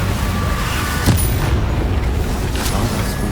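Confringo explosive spell cast in the Hogwarts Legacy video game, a loud, rumbling boom with a sharp burst near the middle and sustained low roar through the game's combat noise.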